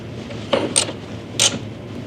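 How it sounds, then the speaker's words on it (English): Lower fender bolts with nuts on an International Scout under restoration, tightened with a wrench: three short ratcheting, creaking bursts spaced apart over faint background noise. "These are the 2 lower bolts with nuts. Tightening them."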